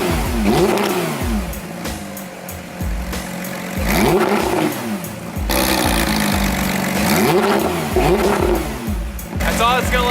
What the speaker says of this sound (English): So I'm gonna do a quick little exhaust clip of how it sounds right now.